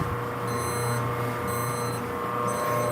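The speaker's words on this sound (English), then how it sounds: "There's alarms going off and I'm alone." Kitchen alarms going off in repeating electronic beeps, each lasting about half a second at a steady one-second interval, heard over a constant hum.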